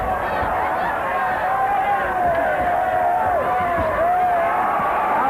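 A boxing crowd in Austin roars steadily throughout, a dense continuous wash of cheering and babble with shouted voices rising above it, loud and close.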